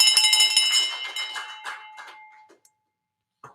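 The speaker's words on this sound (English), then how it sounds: "Ring the bell, Brent, please." A bell rung to celebrate a deal, a bright ringing strike with clattering repeats that decays over about two seconds, near and clear, alone.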